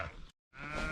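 Sheep on a cattle ranch bleat twice at close range, a short bleat cut by a brief silence and then a longer, strained call.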